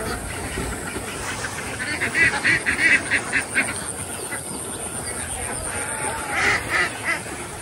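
Farm ducks from a flock of about 160 quack in clustered bursts, louder in the first few seconds and again near the end, over a constant noisy background.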